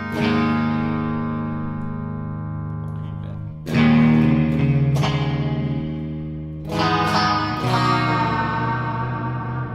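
Electric guitar chords ring out through reverb with no tremolo and a twangy surf tone, three strummed hits sustaining and decaying, clean and loud.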